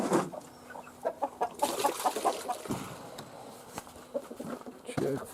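Chickens cluck and murmur close by in short repeated bursts, with soft rustling and shuffling around them.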